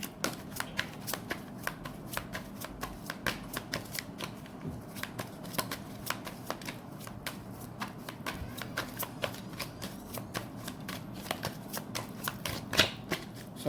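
Tarot cards are shuffled by hand in a quiet room, giving a continuous stream of quick, crisp riffling clicks close to the microphone.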